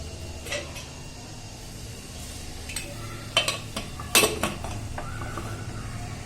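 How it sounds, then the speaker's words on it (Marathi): A pressure cooker lid clanks into place over a cooker holding a loose-lidded container of dal, giving a few sharp metallic clinks and knocks in the middle of the clip over a low, steady kitchen hum. "आता कुकरचं झाकण लावून घेतले"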